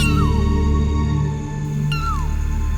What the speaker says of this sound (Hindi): फिर अचानक दीपक को ऑटो की पिछली सीट से बिल्ली के रोने की आवाज आने लगती है।